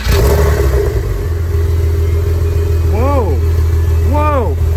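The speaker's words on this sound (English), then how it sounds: "Whoa, it's running like a real car." A Porsche Boxster engine fires up and settles into a loud, steady idle close by, with brief rising rev blips later on.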